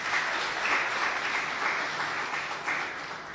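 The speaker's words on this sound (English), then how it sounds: "a round of applause." School debate audience at an inter-secondary semi-final gives steady applause for an introduced official, a moderately distant, even patter of many hands with no voices.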